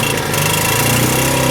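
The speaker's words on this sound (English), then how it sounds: "That engine bogged right down. It almost stalled out." A homestead engine driving an alternator bogs down under load as it is clamped onto a battery bank, giving a loud, rough, continuous mechanical drone with a knocking low-end rumble and no voices.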